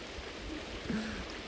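Clean water flows in a forest stream near Shergaon, Arunachal Pradesh, as a steady, fairly soft broadband rush with no clear breaks.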